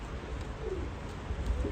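Pigeons coo in soft, low murmurs against a steady outdoor background hum, with a couple of brief calls standing slightly above the noise.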